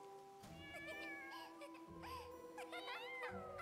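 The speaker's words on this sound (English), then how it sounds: "Aw, kitty." A cat meows repeatedly in the video game Balan Wonderworld, with several rising and falling high-pitched mews spread over a few seconds over quiet background music.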